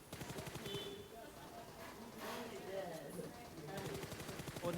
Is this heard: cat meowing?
no